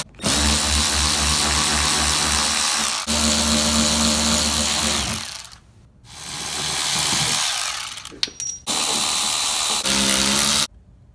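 Power tool whirring on bolts of a Ford 6.2 truck during spark plug work, loud close bursts of several seconds each, stopping and restarting with short pauses between.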